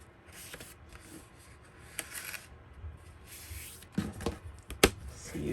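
Stiff paper being folded and creased for a handmade folio-style journaling album, with soft crinkles and rustles building to a few sharper snaps and presses near the end, close up with no talk.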